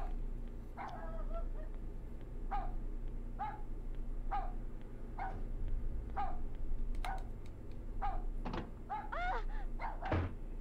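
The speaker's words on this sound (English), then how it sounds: "It sounds like a small dog." Small dog in Rule of Rose gives a series of short, faint yips spaced about a second apart, then a louder cluster of sharp barks and a thump near the end, over steady low hum.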